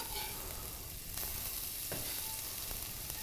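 Base ingredients sizzling in a hot pan while steamed barramundi is prepared, a steady close crackle and hiss with a few faint clinks of stirring, no talking.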